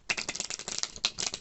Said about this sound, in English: Oh God, why can't I shuffle this deck?